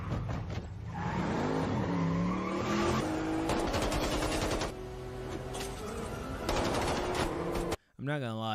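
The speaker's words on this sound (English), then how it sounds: "the sound of the bullets and the shooting still kind of trash" Rapid bursts of automatic gunfire from an action movie scene, with vehicle engine roar and skidding tires mixed in, loud and continuous for several seconds before cutting out abruptly near the end.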